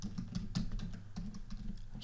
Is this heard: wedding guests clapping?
no